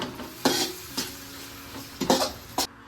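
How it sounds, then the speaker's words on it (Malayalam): A spoon stirs noodle sauce with soy sauce in a pan, several rhythmic scraping strokes against the metal over a faint sizzle, fairly loud and close. "എന്നിട്ട് നല്ലപോലെ നിറച്ച് യോജിപ്പിച്ച് കൊടുക്കുക"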